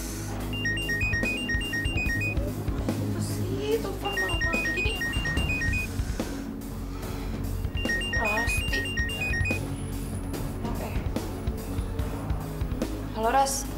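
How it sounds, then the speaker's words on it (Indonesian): A mobile phone ringtone at night plays a repeating electronic melody in three bursts, heard over a busy background with intermittent talk. "Apa sih, telepon malam-malam begini?"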